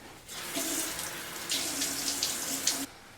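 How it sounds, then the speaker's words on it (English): Water pours from a sink tap while a face is washed, a close, steady splashing rush in two bursts with a brief dip between, then stopping abruptly. "I will first wash off my face with some water"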